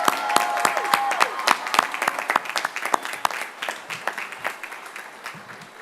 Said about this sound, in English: Let's give our graduates a round of applause.